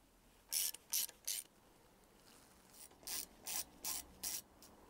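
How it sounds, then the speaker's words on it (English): A ratchet fitted with a deep socket undoes bolts in quick clicking bursts: three short runs, a pause, then five more. The ratcheting is close and crisp over a quiet background, with no talk. "Just undo this one with a deep socket."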